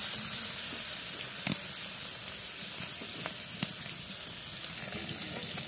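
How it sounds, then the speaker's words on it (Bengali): Tilapia fish frying in white oil in a kadai, a continuous close crackling sizzle with a few sharper pops and spatters, heard alone. "সুন্দর করে এখন ভেজে নেব।"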